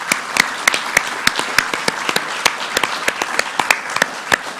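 Applause at an outdoor Australia Day celebration in Ballina Shire, a steady wash of clapping with sharp individual claps standing out near the listener, holding at even strength throughout with no voices over it.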